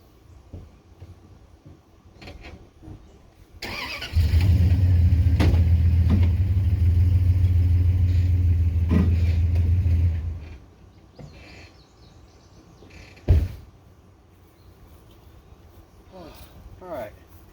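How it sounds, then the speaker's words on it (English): A truck engine starts and runs loudly for several seconds as the vehicle is driven out, then fades, with a sharp knock afterward and faint birdsong in a rural yard. "Let me get this truck out."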